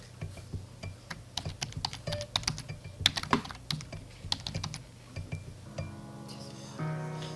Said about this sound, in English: Below that, type in your city.